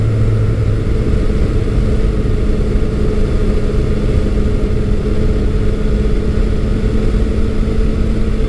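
A Yamaha FJ-09 motorcycle engine drones steadily while riding on back roads, a loud continuous mid-pitched hum mixed with heavy wind rush throughout, with no talking.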